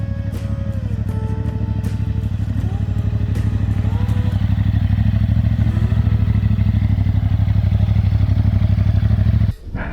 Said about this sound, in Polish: bardzo sprawnie ten motor skręca